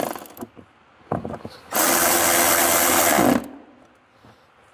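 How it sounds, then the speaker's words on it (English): A power driver whirs for about a second and a half while removing a screw from a Yamaha Kodiak 700 ATV, a loud steady close buzz between scattered clicks and rattles of handling. "Took out the wrong screw."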